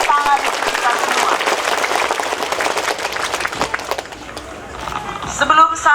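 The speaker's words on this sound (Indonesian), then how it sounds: "Tepuk tangan untuk kita semua." Loud crowd applause at a political rally in Indonesia, brisk dense clapping that thins after a few seconds as voices and background noise rise.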